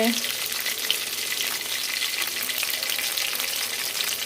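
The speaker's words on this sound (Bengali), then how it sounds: "এদিকে ফ্রাই ভাজা হচ্ছে" Food frying in a pan in a home kitchen, a steady dense sizzle and crackle that fills the whole stretch at moderate loudness, close by, with no one speaking.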